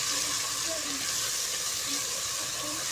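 Whole coriander, cumin and turmeric frying lightly in a pan for mixed dal tadka, a steady soft sizzle with faint scattered crackles running evenly throughout.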